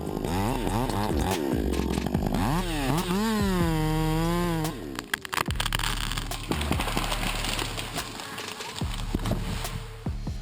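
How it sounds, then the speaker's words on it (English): A chainsaw revs and whines loudly as it cuts, pitch rising and falling, followed by cracking and crashing as a tree comes down. "I believe you will like this tree saw scream."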